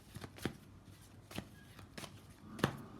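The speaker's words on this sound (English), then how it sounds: "I want to shuffle one more time actually." Tarot cards being shuffled by hand, a few soft riffling bursts with short pauses between them, quiet and close, no talking.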